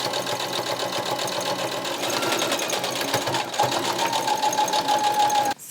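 Sewing machine running steadily to stitch a seam while taking in a trouser waist, a continuous close whirring drone with rapid needle chatter that stops abruptly at the end.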